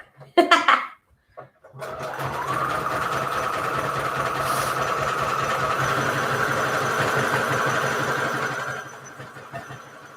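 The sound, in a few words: sewing machine sewing a zigzag stitch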